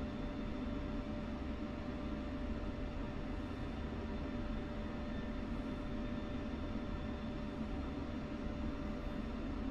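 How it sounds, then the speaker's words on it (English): A B-1 bomber takes off in the DCS World flight simulator, giving a steady, unbroken roar of jet engines that holds at an even loudness throughout, with no voices. "Get that nice B-1 bomber going out."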